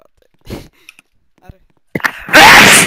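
A single loud, close sneeze bursts out sharply after a few brief spoken words.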